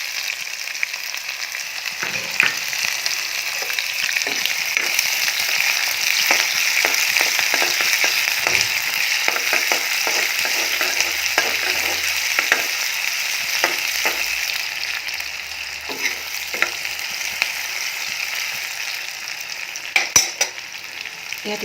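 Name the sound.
chopped onions and bay leaf frying in hot oil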